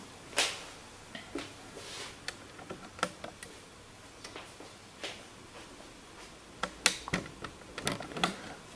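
Cartridge door of a Xerox B205 printer being opened: a string of sharp, close plastic clicks and ticks at irregular intervals, fairly quiet, with no talking.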